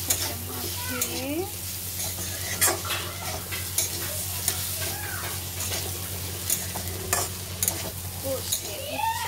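Rice and scrambled egg mixed with poppy-seed paste being stirred and fried in a pan, with steady sizzling and repeated spatula scrapes and clinks throughout, close and fairly loud, plus a low background hum.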